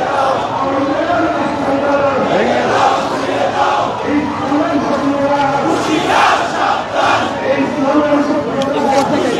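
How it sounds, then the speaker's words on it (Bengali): A loud street protest march where a dense crowd chants slogans in unison, rhythmic shouted calls rising and falling continuously with chatter mixed in, close and enveloping. "যেমনটি দেখছেন যে আন্দোলনকারী যারা রয়েছে তারা বিভিন্ন স্লোগান দিচ্ছে"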